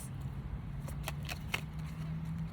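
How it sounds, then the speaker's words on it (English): A bridge shuffle of a deck of playing cards, heard as a low steady riffle with a few sharp snaps, close and fairly quiet with no talking. "bridge shuffle."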